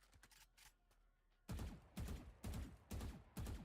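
Gunfire from counter-strafe shooting practice in a video game: a few faint shots at first, then four loud, evenly spaced shots in steady rhythm.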